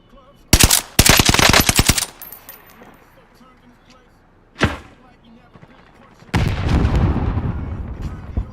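Rapid video-game gunfire in a tactical shooter: a dense machine-gun burst up front, a lone sharp shot midway, then a long sustained volley of fire closing out, loud and close with no talk.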